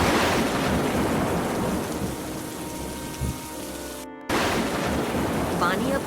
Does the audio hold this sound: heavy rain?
yes